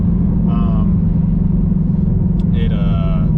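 Loud, steady low engine rumble from a 2020 Shelby GT500 while driving with traction control on, a continuous drone throughout with brief higher whines layered on top.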